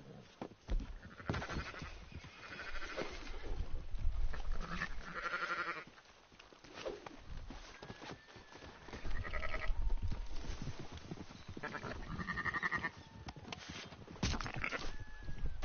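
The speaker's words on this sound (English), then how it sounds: "Oh, sheep here." Sheep in Red Dead Redemption 2 bleat repeatedly at close range, several wavering calls spread across the stretch with quiet gaps and soft shuffling between them.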